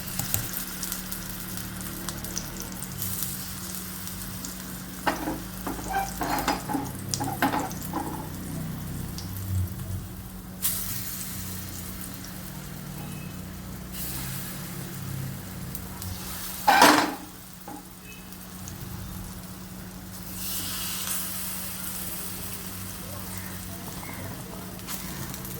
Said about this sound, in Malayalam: ഇപ്പം നെയ്യൊക്കെ ചൂടായി വന്നിട്ടുണ്ട്. അതിലേക്ക് നമുക്ക് ഈ നമ്മൾ മുറിച്ച് വെച്ചിരുന്ന പഴം ഓരോന്നായിട്ടിട്ട് മുറിച്ചെടുക്കാം.